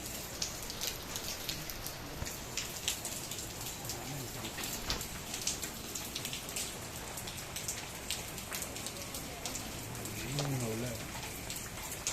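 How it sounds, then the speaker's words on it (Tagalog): Heavy rain pours steadily with a dense patter of drops striking surfaces, a constant wash of noise, while a voice murmurs faintly underneath. "Lakas ang ulan mga kasorbay."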